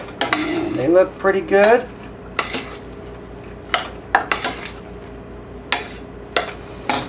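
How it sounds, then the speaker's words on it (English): A spoon scrapes and knocks through cooked lentils in a pot, with a few scattered clinks and stirring strokes spread over the clip, following a brief spoken remark. "we'll go ahead and give this a bit of a stir"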